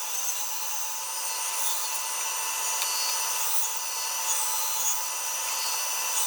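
A bandsaw cuts notches in a scrap offcut of fence post wood, a steady hissing rasp of blade on wood that runs evenly and continuously without pauses.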